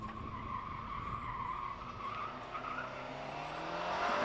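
A 2-litre four-wheel-drive Subaru Impreza powers up the Prescott speed hill climb, its engine note rising steadily with tire squeal through a tight corner, fairly distant and growing slightly louder toward the end.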